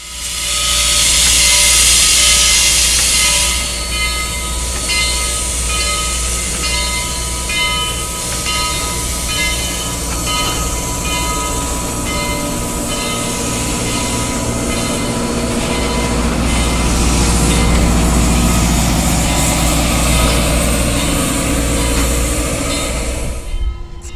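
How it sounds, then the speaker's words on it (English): Steam locomotive 4501 pulling a passenger train out of Grand Junction, a loud, close rumble with rhythmic clanking and steady rolling noise throughout, swelling again near the end. "The 4501 departs Grand Junction one more time with a trainload of people."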